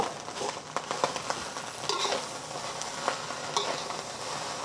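Leftover cooked rice stir-fried in a hot pan for Yangzhou fried rice, with a steady close sizzle and repeated scraping, clacking stirs of the utensil against the pan, and no talking.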